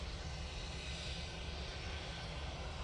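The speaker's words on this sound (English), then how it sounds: "Lufthansa A320-1200 going back to Frankfurt, lined up," Steady, faint engine roar from a Lufthansa Airbus A320 lined up for takeoff at Manchester Airport, a continuous broadband hum with no talk over it.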